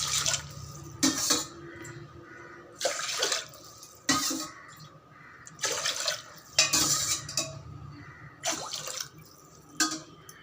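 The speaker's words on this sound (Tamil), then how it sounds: "இப்போ 4 கப் தண்ணி சேர்த்துக்கலாம்" Water splashes and pours in several bursts into a heavy metal cooker pot, with clanking and dripping between pours, close and fairly loud.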